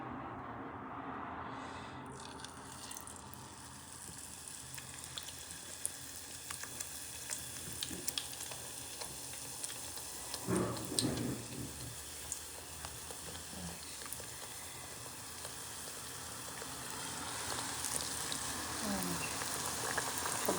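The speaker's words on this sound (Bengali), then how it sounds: "এবার আমি বেগুনিটা ভেজে নিই" Beguni, eggplant fritters, fry in oil for an iftar spread, making a continuous, close crackling sizzle that runs unbroken. A brief clatter of utensils sounds near the middle, and no one speaks.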